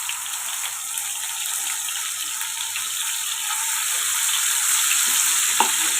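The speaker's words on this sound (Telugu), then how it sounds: "ముందుగా అల్లం వెల్లుల్లి పేస్ట్, కొంచెం కొబ్బరి పేస్ట్ని మనం ఫ్రై చేసుకుందాం." Ginger garlic paste and coconut paste fry in hot oil in a pan for a chicken liver curry, a steady close hiss and crackle that grows slightly louder, with a faint stir near the end.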